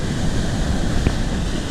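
Big ocean waves roll onto White Sand Beach in Bali, a loud, steady roar of surf and rushing water with wind noise.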